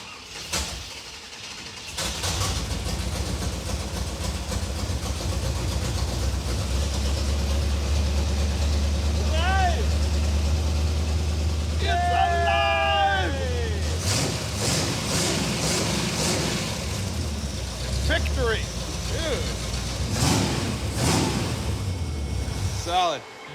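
A car engine cranks and catches, then runs with a rough idle for a while, with a few sharp bursts and a chirping squeak. It finally shuts off, ending in near silence.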